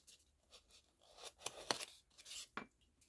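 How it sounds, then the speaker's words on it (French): Scissors snip away a small excess bit of fabric on a Christmas bauble, a few quiet close crisp cuts and rustles. "Le petit bout en trop, là, je vais venir le couper."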